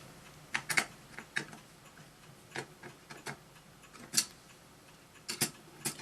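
A screwdriver works a screw down inside a Sanyo VTC-MH5 Japanese NTSC Beta Hi-fi video recorder, giving sparse, sharp little metallic clicks and ticks at uneven intervals, close but faint, with no voices.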